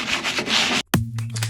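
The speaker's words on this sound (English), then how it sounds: "so we'll start off by sanding this" Steady rough rubbing of a sander against a truck bed, briefly stopping, then resuming with a lower humming whir, close and alone.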